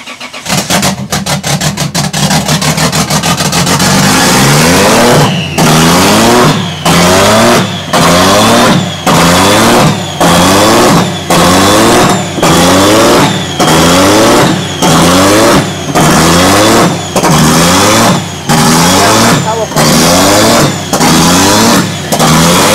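A 2JZ engine in a Nissan 240SX cranks quickly and catches, then revs over and over. It is very loud and close, with a regular pattern of rising blips that each fall back to a rough idle.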